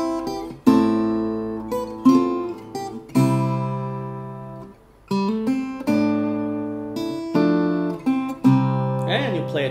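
Fingerstyle acoustic guitar plays the bridge of a song: plucked chords and notes ringing out in a slow, sustained rhythm, close and clear, with no talking.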